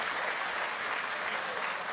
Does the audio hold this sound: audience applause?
yes